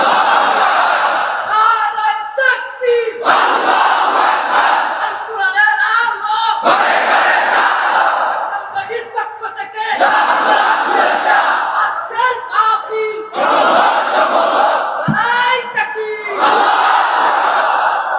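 A large crowd at a religious sermon gathering loudly chants the takbir, Allahu Akbar, in repeated swelling unison waves separated by brief pauses, forceful and reverberant.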